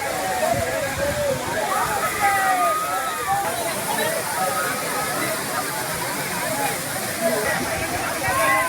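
Palaruvi waterfall at Courtallam, where crowds bathe, sends a steady roar of rushing water that runs continuously beneath a voice talking over it.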